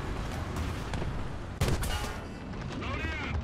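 Tank cannon fire from a BT-7M light tank in the War Thunder combat game: one sharp loud shot bursts out midway over a constant rumbling engine and battle din.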